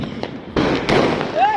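Diwali firecrackers set off outdoors, a couple of sharp close bangs with crackling bursts in quick succession over a second and a half, with voices talking around them.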